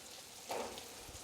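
Shelled peas tipped into spice paste frying in a pan for a Bengali mixed vegetable dish, giving a brief burst of sizzle and a soft clatter over a quiet, steady frying hiss.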